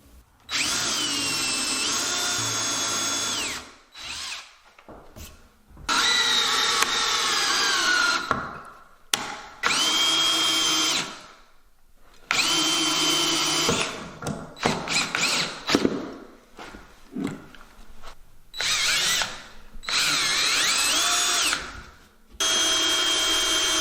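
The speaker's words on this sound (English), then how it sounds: "what I'm going to do is drill some holes, put the screw in it" A power drill whines through wood in repeated bursts, each few seconds long with short pauses between, close and loud, motor pitch rising and falling.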